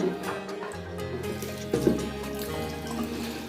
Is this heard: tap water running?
yes